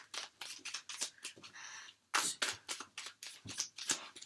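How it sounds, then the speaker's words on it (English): Tarot cards shuffled by hand in a steady run of soft, papery riffling bursts, close and fairly quiet, with a brief pause partway through before the shuffling resumes. "And one last shuffle for our Virgos."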